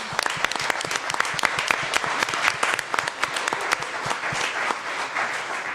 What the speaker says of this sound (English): Yeah, give a round of applause.